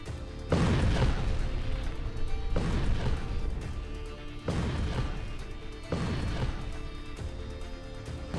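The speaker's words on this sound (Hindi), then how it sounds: "तुर्की का यह super bunker buster bomb 7 metre की कंक्रीट को भेद कर आगे बढ़ता है और फिर धमाका" A Turkish super bunker buster bomb punches through thick concrete and detonates, heavy booming blasts recurring about every two seconds, loud and close with a sustained rumbling roar between hits.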